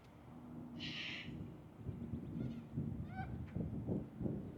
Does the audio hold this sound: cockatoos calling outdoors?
yes